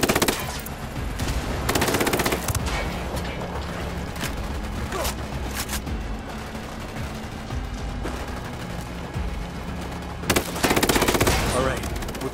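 Automatic gunfire in the shooter Ghost Recon Wildlands, long rattling bursts of rapid shots with loud flurries near the start and end and steady firing in between.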